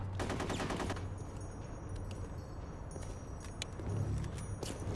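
Video game squad combat with bursts of rapid automatic gunfire and scattered single shots. The firing rattles on steadily over a continuous background din, and no one speaks.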